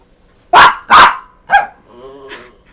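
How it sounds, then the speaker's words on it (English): A dog gives three sharp barks, two loud and close together and then a shorter one, followed by a softer growling whine. "Hold on, I have dog barks."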